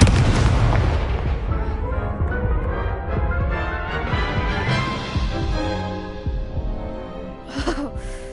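Spell combat in the Hogwarts Legacy video game, Stupefy, Incendio and Levioso cast in rapid succession, producing a continuous dense wash of loud magical blasts, booms and impacts with no pause.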